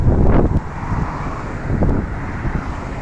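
Strong wind in Canada blows in loud, rumbling gusts, buffeting close to the microphone, with no talk.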